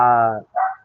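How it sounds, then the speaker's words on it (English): Dog barking: one close, loud bark followed by a shorter second yelp, heard alone in a brief burst. "Sorry for the dog, whoever dog that is."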